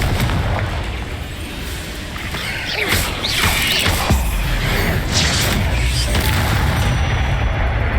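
A Confringo blasting spell in Hogwarts Legacy bursts in a series of loud booming explosions with crackling debris, several heavy blasts spread across the stretch, dense and close.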